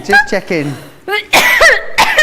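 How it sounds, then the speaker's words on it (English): A person speaks briefly, then coughs twice, sharp and close. "No, it was a genuine cough."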